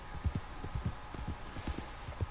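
Hooves of a wild horse galloping across open ground in Red Dead Redemption 2, a quick uneven drumming of thuds, moderately close and without voices.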